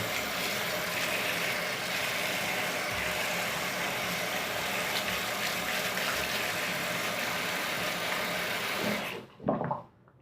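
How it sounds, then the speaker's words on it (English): Tap water runs steadily into a bathtub for about nine seconds, a continuous broad rush that then cuts off abruptly, followed by a few faint splashes and drips. "I'm just running water and rinsing, running water and rinsing"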